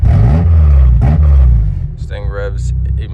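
Engine revving on a high-mileage Subaru Legacy with the original engine and a modified intake: deep, loud rumble that swells quickly through two rev bursts and then settles into idle, with a voice speaking over the end.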